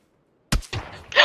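Gunfire in the video game Helldivers 2, a sharp loud shot after a brief silence, followed by a rough decaying rumble and another bright burst, all within a second.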